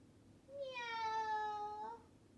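A single drawn-out meow, a person's voice imitating a cat during a children's yoga exercise, rising then settling over about one and a half seconds, close and clear against a quiet room.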